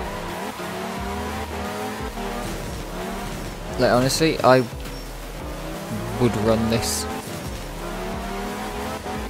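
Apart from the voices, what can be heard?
rally car driving, Cosworth, from video game art of rally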